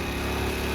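A Hero Splendor motorcycle engine labours up a steep snowy mountain slope near Jalori Pass, a steady close buzzing drone with no break and no talk over it.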